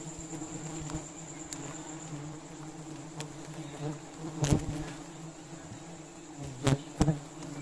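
Wild honey bees buzz steadily in a mangrove forest during a honey harvest in South Sumatra, with a continuous low hum and a few louder swells and passes close by.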